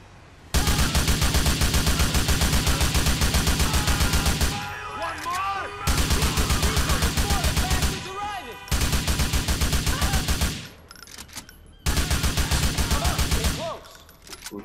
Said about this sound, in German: jetzt habe ich auch noch Packy abgeknallt